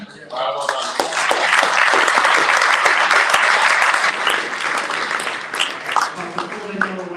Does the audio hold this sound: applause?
yes